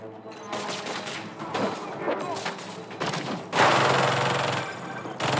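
Automated turrets firing in Spider-Man 2 on PS5, dense rapid bursts of gunfire and thuds running throughout, with a heavier blast surge partway through.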